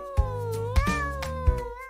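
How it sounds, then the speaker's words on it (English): Kittens meow close by in a short string of clear, high cries, one after another with brief gaps, loud and with no talking around them. "you can call in the kittens"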